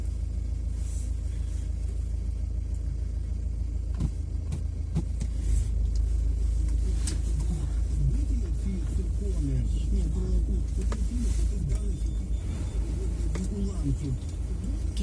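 Steady low engine rumble and road noise from a car driving slowly, continuous throughout, with a person talking over it now and then.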